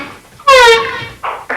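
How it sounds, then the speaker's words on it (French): Foghorn sound effect played on a French radio call-in show: a loud, brassy, sustained blast of under half a second, followed by two short bursts of other sound. "Merci pour la corne de brume."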